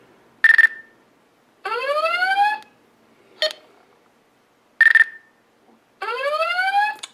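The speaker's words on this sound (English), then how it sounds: "there are three different types of alarm when it reaches zero." Loud electronic timer-app alarm alternating short bright beeps with bursts of rising warbling tones, repeating in a regular pattern against silence.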